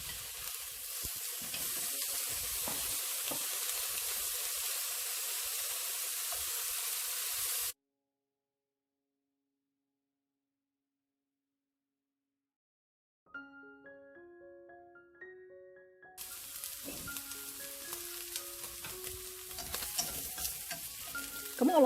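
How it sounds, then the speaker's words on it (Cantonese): Pieces of lamb sizzle in a dry wok for a Cantonese radish and lamb soup, a steady close hiss broken by silence and a short musical interlude before the frying resumes. "白鑊煎一煎呢啲羊肉，"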